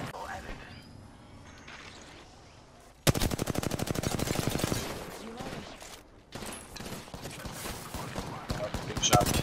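Automatic gunfire in Apex Legends erupts suddenly into a loud, rapid rattling burst, then continues in further volleys with clanks and impacts as voices talk over the fight.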